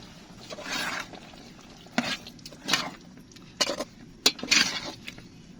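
A spoon scrapes and clinks through chicken and potato curry with tomatoes and coriander in a pan, in irregular bursts of stirring over a soft sizzle, close by with no talking.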